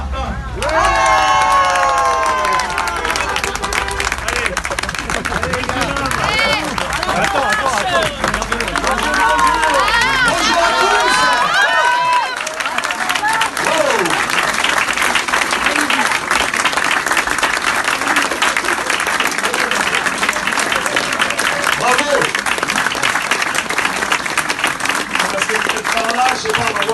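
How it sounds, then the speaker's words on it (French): A crowd at the inauguration of a local office applauds and cheers loudly and continuously, with whoops and children's shouts over dense clapping that carries on throughout. "je vous demande d'accueillir et d'applaudir Gilles Laprelle et Sébastien Martin"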